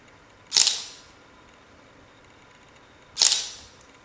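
Shutter of a Canon 550D DSLR camera firing twice, about two and a half seconds apart, each a sharp close mechanical click with a short tail, heard alone in a quiet room.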